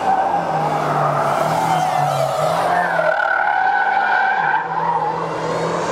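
Tires of a BMW XM Red Label squeal and slide through a corner on a track, a loud wavering screech over a steady engine drone that persists for several seconds.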